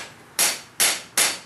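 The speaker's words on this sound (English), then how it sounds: "I picked up this little rawhide mallet hammer" Three sharp, evenly spaced blows from a small rawhide mallet hammer land on metal, each one close and loud, followed by a brief ringing decay, with no voices.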